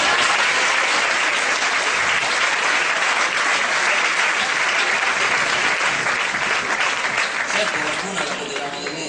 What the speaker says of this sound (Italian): per cui un grande applauso a loro.